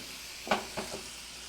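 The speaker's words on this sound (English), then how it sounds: "I'm going to brown this ground beef and add some seasoning to it as well." Ground beef browning in a frying pan: a steady low sizzle with three quick spatula scrapes and stirs, close and fairly quiet, with no talking.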